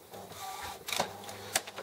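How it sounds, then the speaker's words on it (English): An Epson XP-950 printer carries its printhead across to the ink cartridge change position, giving a quiet mechanical whir with a couple of sharper clicks and clunks partway through. "I'm just going to wait for the printhead to come over to the ink cartridge change position"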